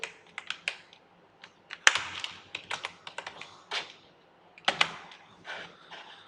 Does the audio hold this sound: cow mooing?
no